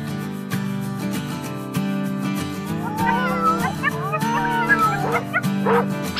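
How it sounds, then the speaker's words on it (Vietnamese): Dogs in an animated fairy-tale cartoon bark fiercely, with sharp yips and whimpering cries rising over a steady bed of background music. "Lũ chó ấy đúng là hung dữ quá mà."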